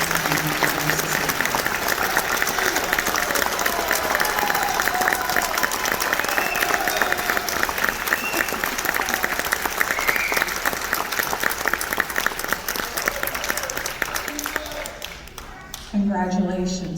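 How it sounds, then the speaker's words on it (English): Auditorium audience at a National Junior Honor Society induction ceremony applauds the new student members, sustained dense clapping throughout that thins near the end as a voice begins speaking. "Please join me once again in applauding the new student members of Newcastle National Junior Honor Society."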